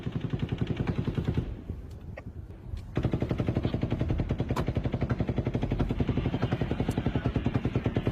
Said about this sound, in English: firing multiple different types of weaponry